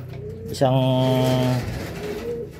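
Racing pigeons at a loft give a loud, close coo with a rising harmonic tone lasting about a second, followed by softer murmuring and quieter cooing.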